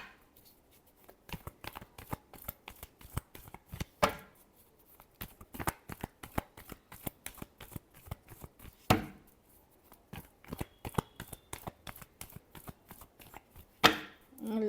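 Tarot cards being shuffled by hand, a long run of quick crisp riffling slaps and flutters in an uneven rhythm, close and fairly loud, with a few sharper bursts where the deck is squared or bridged.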